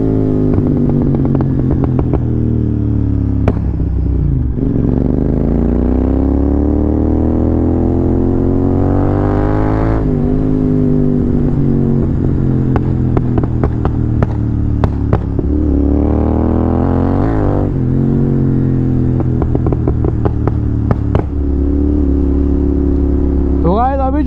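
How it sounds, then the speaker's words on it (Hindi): A Royal Enfield GT 650 motorcycle with a Code 6 tune revs up and settles back several times, with sharp exhaust pops and crackles on the overrun. The engine is close and loud throughout. "जो तुमने देखे ये थे अपने पॉप्स जो कि आते हैं कोड 6 ट्यून कराने से"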